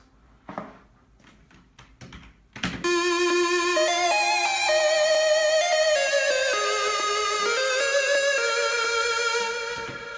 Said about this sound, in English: that's the main lead of the intro of the break